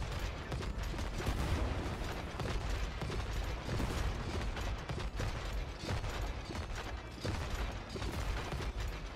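Rapid cannon fire and mechanical clatter from the video game It Takes Two, in a sea battle, forming a dense, continuous barrage of bursts that stays loud throughout with no talk.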